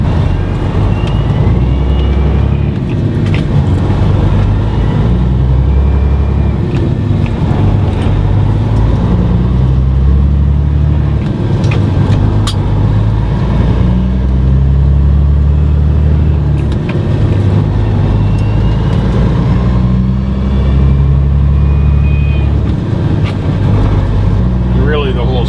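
A professional truck driver floats gears in a heavy truck, shifting without the clutch. The steady, loud engine drone rises and dips in pitch at each gear change, repeating several times over the stretch.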